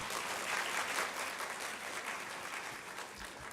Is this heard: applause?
yes